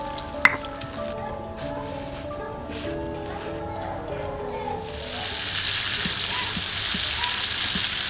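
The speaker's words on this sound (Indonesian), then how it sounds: "Kita goreng bekasnya lombok tadi ini kan." Leftover chili hits a hot pan while cooking a spicy coconut-milk fish dish, breaking into a steady, bright sizzle halfway through. Quiet kitchen clatter and talk come before it.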